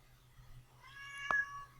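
A house cat gives a single clear meow near the end, rising and falling over faint room quiet and a low background hum.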